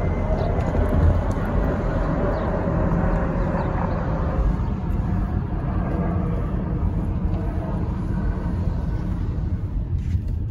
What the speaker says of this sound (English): Oh, now I hear an airplane.